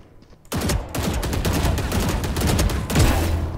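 Rapid gunfire in a shooter deathmatch on a practice range, dense loud automatic bursts starting abruptly and continuing almost without pause, close and punchy.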